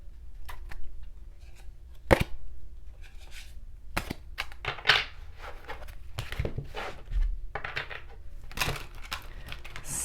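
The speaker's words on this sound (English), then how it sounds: "Some shuffling." A deck of Mystic Mondays tarot cards is shuffled in uneven bursts of riffling and snapping, fairly close, with pauses between the clumsy shuffles.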